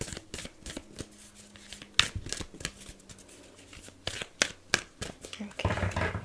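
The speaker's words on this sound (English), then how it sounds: "Trying to get back in the hand motion of shuffling." Tarot or oracle cards shuffled slowly by hand at close range, a run of crisp riffling and flicking bursts with uneven pauses, and a short voice or two in the background.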